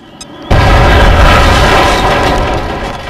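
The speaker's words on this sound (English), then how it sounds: "I'm gonna just throw the grenade to hit both of them." A grenade goes off in the XCOM video game: a sudden, loud blast about half a second in, followed by a heavy, sustained rumbling roar that slowly fades.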